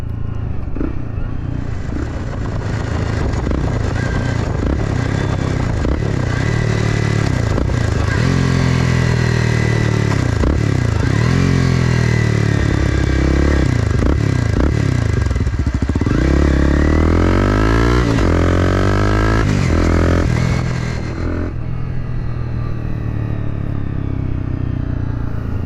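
A 2011 Honda CBR 250R motorcycle engine heard up close from behind, idling with a clattery rumble and then revving repeatedly in rising and falling sweeps before settling back, loud and continuous throughout.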